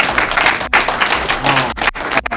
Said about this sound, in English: So please give my wife a round of applause.